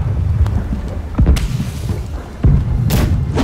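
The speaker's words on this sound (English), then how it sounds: "Why is the galleon shooting us?" Cannon fire from an enemy galleon at sea in Blackwake: heavy dull booms and thuds at irregular intervals over steady wind and water noise, with a few brighter impacts.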